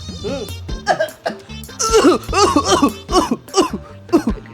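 A run of loud, close coughs in quick bursts, some voiced and throaty, one after another with short gaps between them.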